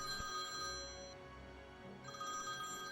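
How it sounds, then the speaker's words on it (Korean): A mobile phone ringtone rings steadily at dawn, an audiobook sound effect, with sustained tonal notes, a brief dip in the middle and then the ring resuming, moderately faint and heard alone without any talk. "핸드폰이 고요한 새벽의 정막을 깨고 울리기 시작했습니다"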